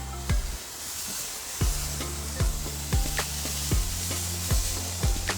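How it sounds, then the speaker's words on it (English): Homemade hamburger patties sizzling on a medium-high outdoor grill, a steady close frying hiss punctuated by regular low thumps and clanks roughly every second. "Get these burgers on the grill, starting with number 1"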